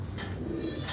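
Soft, low pigeon cooing hums in the background, a steady murmuring coo with faint hiss above and no talking.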